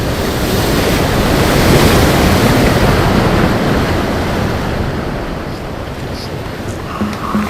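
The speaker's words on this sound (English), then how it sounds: "When a wave hits a jagged coastline, some of the wave motion turns into turbulence and some become scattered reflections" Ocean waves crash against a jagged coastline, a loud, continuous roar of surf and turbulent water that swells and eases slightly, with some wind buffeting the microphone.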